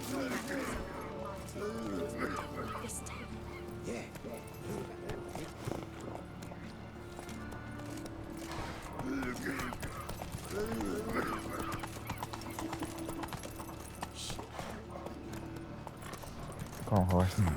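Horse hooves clip-clopping in The Witcher 3 video game, a steady run of hoofbeats with jangling tack and an occasional whinny, under ongoing in-game and player talk.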